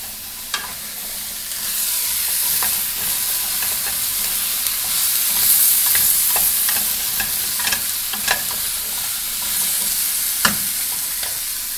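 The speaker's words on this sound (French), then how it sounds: "On va brasser un petit peu." A spoon stirs squash, sweet potato and pear soup in a pot, a steady simmering hiss broken by repeated clinks and scrapes against the pot, close up, with no talking.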